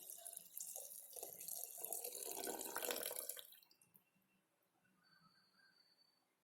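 Boiled carrot water poured from a vessel into a pan, a loud splashing gush for about three seconds that tapers off into faint trickles and drips.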